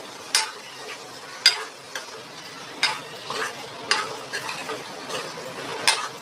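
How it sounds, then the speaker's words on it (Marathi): Spices frying in oil for a Konkani fish masala, with a soft continuous sizzle and repeated sharp scraping clicks from a spoon stirring the pan at close range. "तेलात चांगले भाजून घ्यायचे मसाले।"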